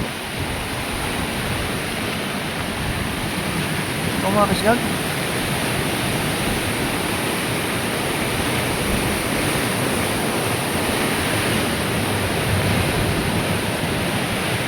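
A loud, steady rush of a large mountain river swollen during a typhoon fills the whole stretch, with a brief spoken exclamation partway through.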